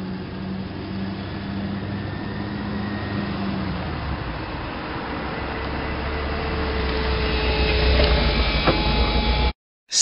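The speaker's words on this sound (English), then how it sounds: "convertible." A convertible car runs with a steady, broad engine and road noise that holds evenly and swells slightly louder toward the end before cutting off abruptly.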